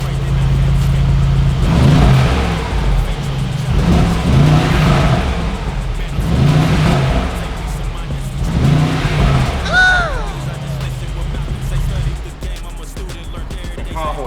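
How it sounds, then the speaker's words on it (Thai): A sports car engine revs repeatedly in loud bursts, the exhaust roaring and crackling up and down, with a faint tire squeal near the end. "เสียงเครื่องแม่งสุดยอดเลย ฟังเสียงท่อเลย"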